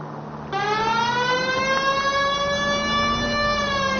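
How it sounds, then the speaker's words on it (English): A car siren in a video game, one continuous rising wail that kicks in abruptly and holds loud and steady, with no voices over it. "If you use the siren, maybe those metal things in front of you called cars would know you're in a hurry."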